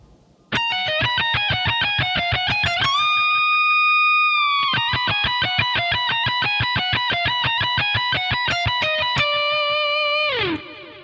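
Distorted electric guitar plays a slow, steady run of picked single notes from a solo, holding one sustained bend in the middle and ending on a falling slide, loud and alone.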